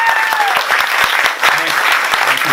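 Audience applause fills a radio station studio dedication: dense, loud, close clapping throughout with a voice speaking over part of it.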